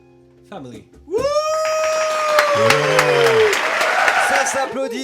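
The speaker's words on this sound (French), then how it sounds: "Ça s'applaudit dans le studio" Clapping and cheering in a radio studio for the guest band, rising after a loud sung or shouted voice and continuing under overlapping voices.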